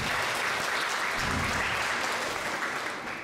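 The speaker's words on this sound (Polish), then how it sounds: "Brawa dla niego!" Audience applause for a contestant at a live school-themed show, a dense, steady wash of many hands clapping that stays loud throughout and tapers slightly at the end.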